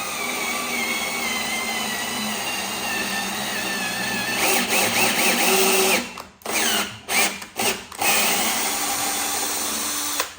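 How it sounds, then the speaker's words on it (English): A power drill drives a tap into aluminium during a Shovelhead exhaust stud repair, whirring steadily and loudly close by, then stopping and restarting in several short bursts near the end. "I got the tap in the drill just to make my life a bit easier"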